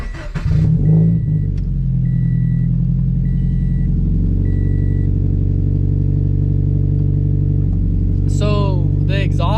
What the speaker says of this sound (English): I want to show you how loud it is when I actually start up the car from the inside.